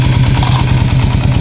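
A Raider 150 Fi motorcycle engine idles steadily up close, a loud, even low-pitched pulsing with no voices over it.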